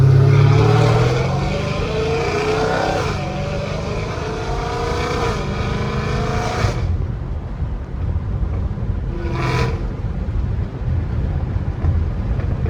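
An 850 hp Hellcat Redeye car engine accelerating, heard from inside the car as a loud, rising roar with climbing tones, then dropping away to a rougher rumbling drone after a shift.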